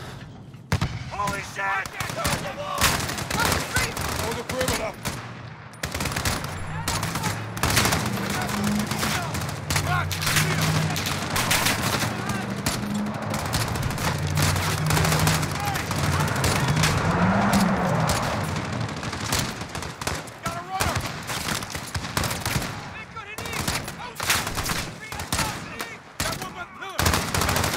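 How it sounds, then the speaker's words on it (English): Rapid machine-gun bursts, scattered shots and explosions in Call of Duty Modern Warfare during an embassy defense mission, dense and continuous, with shouted voices breaking through the firefight. "can't see where they're shooting from!"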